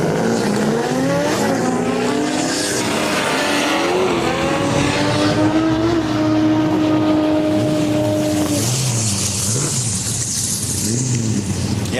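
A drag racing motorbike makes a run at Quick Street during Oz Aid, its loud engine screaming upward through repeated rising sweeps before fading into the distance, with no talking.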